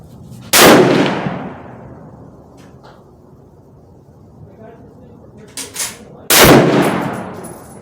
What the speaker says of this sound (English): I'm gonna shoot first shot, rifle resting on the barrel at 100 yards on the right upper target